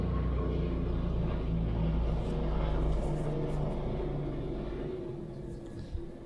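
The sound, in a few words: airplane flying past house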